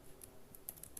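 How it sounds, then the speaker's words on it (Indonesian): Quiet, sparse keystrokes tap on a computer keyboard, a few scattered clicks at an uneven pace under low room noise with no talking. "ketik saja hasil"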